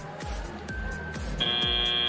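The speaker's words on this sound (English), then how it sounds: "even though that final buzzer sounds" A sustained electronic buzzer tone ends a robotics competition match, cutting in partway through over steady rhythmic thumping beats and background noise.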